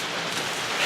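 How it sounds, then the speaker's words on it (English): Rain has just started falling outdoors, giving a steady broadband hiss with no distinct drops, fairly loud and unbroken through a brief moment. "It just started raining"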